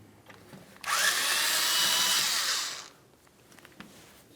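A power tool spins out a 5/16 mounting bolt on the parking brake hardware of a 1999-2006 Chevrolet Silverado 1500 rear axle, a single loud whirring burst of about two seconds between quiet moments.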